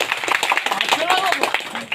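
A crowd at a village tableau and cultural performance claps in short, uneven bursts, with a loud voice talking over the clapping.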